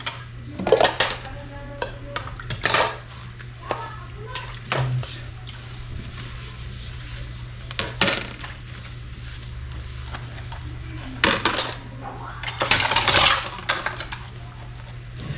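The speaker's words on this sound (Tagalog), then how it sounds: "Ito pang takip namin ng kawali." A wok lid and metal pans are handled in a home kitchen, giving scattered clanks and scrapes in short bursts over a steady low hum, fairly close with no talk.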